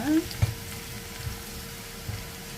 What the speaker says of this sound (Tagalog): At piniprito na natin ang ating carrots at saka potatoes.